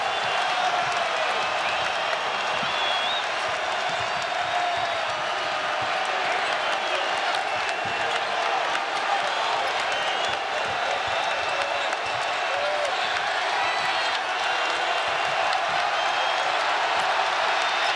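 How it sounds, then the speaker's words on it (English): Basketball arena crowd at a Tennessee vs. Louisville men's college game, a steady loud roar of cheering and applause through the whole stretch with a commentator talking over it. "A little bit of full court pressure right here, getting the crowd involved to it, Kev."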